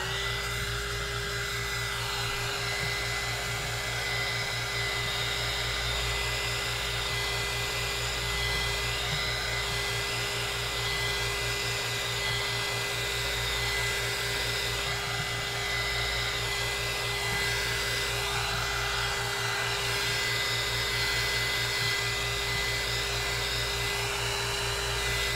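Heat gun blowing steadily over a resin cup with a mica swirl, a continuous loud airy roar with a fixed motor hum running unbroken throughout, no talking.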